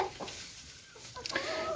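Laying hens clucking nearby in a few short, scattered bursts over a steady background hiss, with no talking.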